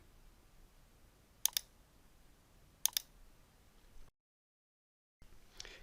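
Two short computer mouse clicks, each a quick double tap, sound about a second and a half apart, crisp and close in a quiet room while editing tracks in the BandLab music app.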